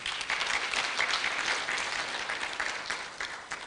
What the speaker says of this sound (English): Can we give a clap?